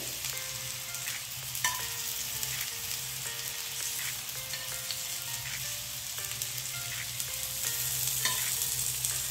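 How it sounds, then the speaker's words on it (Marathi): Methi thalipeeth, a fenugreek flatbread, fries in oil on a pan over medium heat, giving a steady close sizzle with crackling bursts throughout, with no voices. "मध्यम आचेवर व्यवस्थित खमंग असं भाजून घ्यायचं आहे आणि याला साईडून आता तेल सोडते"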